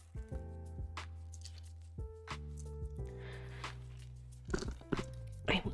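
Chocolate-covered coffee beans are crunched up close, with a quiet run of sharp, uneven bites and chews. No one speaks.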